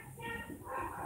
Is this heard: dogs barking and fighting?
yes